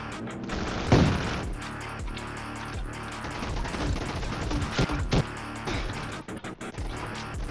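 Gunfire in the Roblox shooter Fight Gun, rapid bursts of automatic shots with sharp cracks and a few heavier impacts, loud and close over several seconds.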